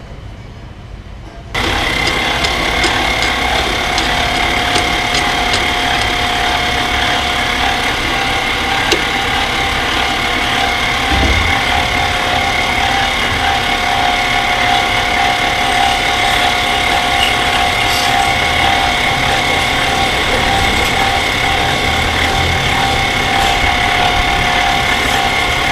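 A metal lathe spins a wooden top while a tool cuts it free, giving a steady, loud mechanical whir with fine ratcheting, gear-like chatter that starts abruptly and holds constant throughout.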